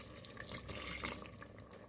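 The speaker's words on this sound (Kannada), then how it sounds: "ಒಂದು 1/4 ಲೋಟ ನೀರನ್ನು ಆ್ಯಡ್ ಮಾಡ್ತಾಯಿದ್ದೀನಿ." A quarter glass of water is poured into curry cooking in a pan, a close, steady splashing trickle that runs throughout without pause, no voices over it.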